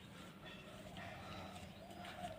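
Pigeons coo softly at a rooftop pigeon house, faint low murmuring calls repeating over quiet outdoor background noise.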